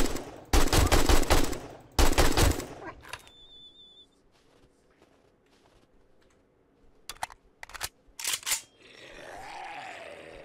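Gunfire in the zombie survival game 7 Days to Die: two loud bursts of rapid shots early, then quiet, followed by a few sharp isolated bangs and a softer rushing noise at the end.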